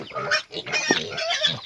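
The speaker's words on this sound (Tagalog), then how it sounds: "papakain natin yung mga baboy natin" Pigs being fed on a small farm, giving short grunts and squeals in close, irregular bursts, loud and near, with no clear talk.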